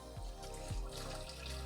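Clear MicroGlass liquid pours into a sprayer tank with a soft, steady trickle and splash, close and fairly quiet, heard alone with no talk.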